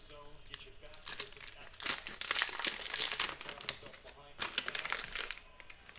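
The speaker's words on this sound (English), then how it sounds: "There's a little notch on the top where I can rip the pack open" A foil baseball card pack is torn open by hand, a close series of crinkling, rustling rips and crackles that swell and fade, with talking heard underneath.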